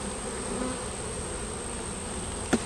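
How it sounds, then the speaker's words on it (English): Honey bees in a single brood box hive hum in a steady, dense drone up close, with a thin high whine running throughout and one sharp click near the end. "It's got a lot of bees in it."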